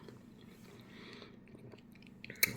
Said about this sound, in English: So I'm just gonna chew on eggs and broccoli all day today.